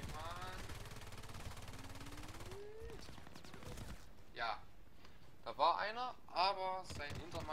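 A PP2000 submachine gun in the video game Battlefield Play4Free fires short bursts, quiet and sharp, while someone talks over the shooting.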